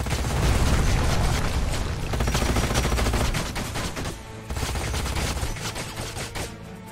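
Dense gunfire from a battle in Age of Wonders: Planetfall, rapid overlapping volleys and booms, loud and continuous with a brief dip before resuming.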